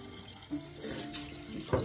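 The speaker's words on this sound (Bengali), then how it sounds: "এখানে চিকেন এইখানে জলে রেখে দিচ্ছি" Tap water runs into a bowl where chicken is set to soak in a home kitchen, a short, quiet, steady splashing trickle.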